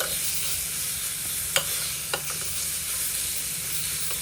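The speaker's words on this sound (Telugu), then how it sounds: "ఇలా ఫ్రై అయిన తర్వాత ముందుగా దంచి పెట్టుకున్న గోంగూర పచ్చడి కూడా వేసుకోవాలి ఇప్పుడు దీన్ని ఒక్క నిమిషం పాటు కలుపుకోవాలి" Fried gongura chutney being stirred in a hot pan, village style: a constant close sizzle with two or three distinct scrapes and clicks of the spoon against the pan, and no talking.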